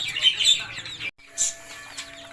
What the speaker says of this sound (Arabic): كتاكيت فيومي فضي، فيومي الفضي. كتاكيت فيومي فضي.